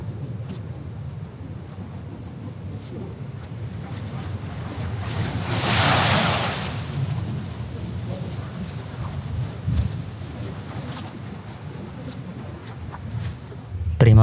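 Ocean waves break and wash along a beach in Bali in the early morning, with wind buffeting the microphone and a louder surge of surf partway through.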